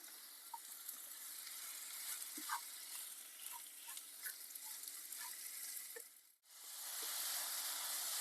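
Banana pieces caramelize with sugar in a pan, giving a soft, steady sizzle broken by light stirring taps. The sound drops out briefly near the end, then returns as a louder hiss.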